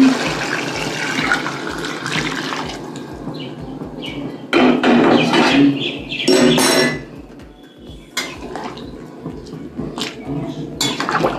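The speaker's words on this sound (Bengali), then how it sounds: "বন্ধুরা আমি গরম জলটা দিয়ে দিলাম।" Hot water poured from a pot into a cooking pot of browned goat meat curry, a loud close rush of splashing liquid with clinks of metal pans around it, the pouring swelling in the middle and then easing off.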